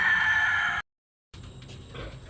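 A rooster crows loudly and close, a drawn-out call that breaks off abruptly, followed after a brief gap by quieter farmyard sounds and faint clucking.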